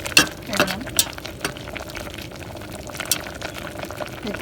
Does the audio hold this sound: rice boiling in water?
yes